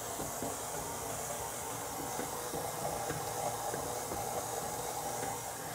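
A stand mixer with a dough hook kneads yeasted dough for a Bavarian plum cake, giving a steady, even motor whir with a soft hissy texture that runs unbroken throughout.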